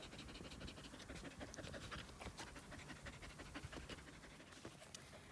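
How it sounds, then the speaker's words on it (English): A dog pants rapidly and continuously up close, quick rhythmic breaths with faint scratching, no talking. "Goofy dog."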